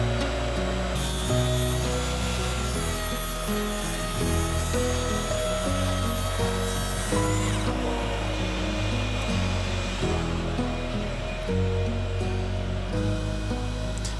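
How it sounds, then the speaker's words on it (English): A table saw whines while cutting plywood to width, a long steady run with a brief break partway through, loud and close, over soft background music. "I'm going to take it to the table saw next, and that's where I'm going to bring everything to width."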